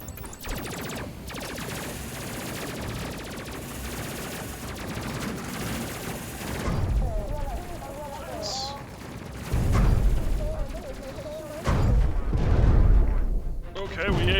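Ship weapons in the space combat game Space Crew, on a bomber crew's craft, fire in dense rapid bursts with heavy booming impacts, loud and close, mixed with game effects and intermittent talk.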